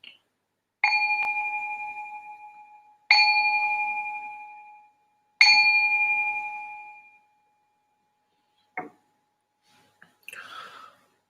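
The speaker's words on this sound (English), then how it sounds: "I ring this bell to signal the start of the meditation" A meditation bell is struck three times in slow succession to open a guided meditation, each clear ringing tone decaying gently into silence, followed by a faint breath and a soft whispered murmur.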